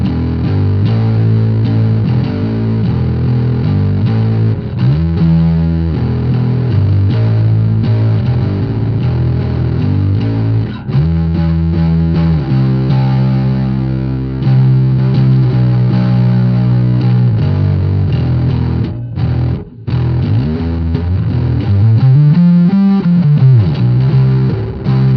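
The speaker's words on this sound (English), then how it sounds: "I've got an expression pedal on it, and I've got it on the filter mode. So this is the Purely Fuzz." Electric guitar played through a Purely Fuzz pedal in filter mode with an expression pedal sweeping the tone, giving a loud, continuous fuzzy distorted line heard close and alone, with a wah-like sweep near the end.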